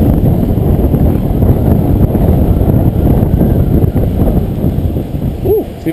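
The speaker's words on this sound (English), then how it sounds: "there is a little bit of wind, like front wind of course" Strong headwind buffeting the microphone while riding a dirtsurfer downhill through Barcelona, a constant loud roaring rumble with gusty fluctuations and no pauses.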